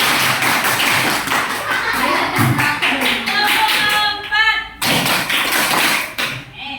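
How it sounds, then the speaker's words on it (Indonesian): Fifth-grade students in an elementary school classroom clap in short counted bursts. The sharp claps come in groups between spoken counts from a teacher, with brief pauses between rounds, close and fairly loud. "Tepuk 1, tepuk 2, tepuk 3, tepuk 4, tepuk 4."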